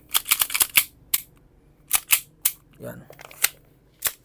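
Sharp clicking shots from an SRC airsoft rifle with a 30-round magazine and hammer pad, being test-fired on a defective unit; a quick burst of close, dry snaps, a pause, then several more single cracks, with a brief voice in between.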